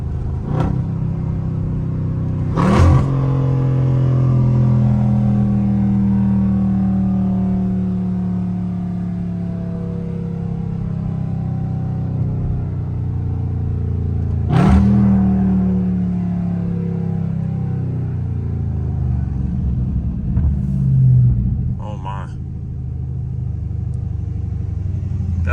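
A Dodge Scat Pack engine roars as it accelerates, its pitch climbing steadily and then dropping sharply at each gear change, over a constant deep rumble.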